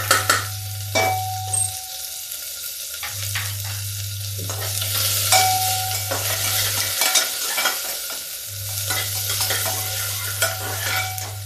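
Garlic, onion and green chili fry in oil for a ridge gourd dish, with a constant sizzle, repeated spatula scrapes and clinks against the pan, and a low steady hum that drops out twice.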